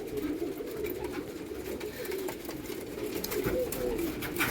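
Flying pigeons, including a female, coo in low repeated phrases over steady background noise, with faint talk nearby.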